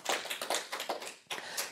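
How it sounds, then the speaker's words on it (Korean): A church congregation clapping in thanks during a worship service: sharp, distinct claps in a loose rhythmic run with a brief pause before the clapping picks up again, moderately close and without talk. "우리 그렇게 하시는 우리 하나님께 감사의 박수 올려드리겠습니다"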